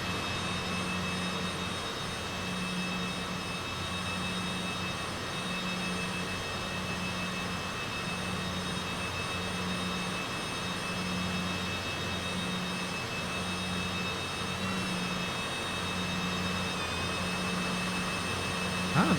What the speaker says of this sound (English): We're getting pushed back by the invisible tug